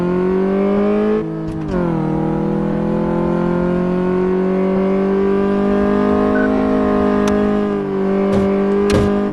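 A car in Car Mechanic Simulator 2014 accelerates, its engine drone rising steadily in pitch and holding loud and close after a brief dip, with a few clicks near the end and no talking.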